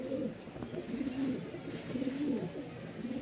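A male pigeon coos nearby in repeated low, rolling phrases, with faint chirps of other birds in the background.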